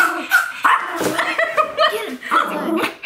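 A small dog barks loudly in repeated sharp yaps, close by, with a few whimpers mixed in among people's voices.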